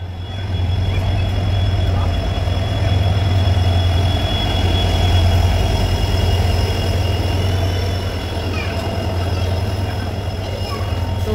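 The Uttarbanga Express pulls into a station with a steady, loud rumble of wheels on rails and faint high squeals throughout, the noise holding level and easing slightly near the end.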